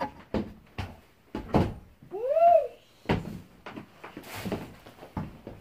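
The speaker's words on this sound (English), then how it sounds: "I'm gonna close this door." A door being pushed shut indoors, a few sharp knocks and thumps with a brief squeaky creak midway, close and fairly loud, no talking.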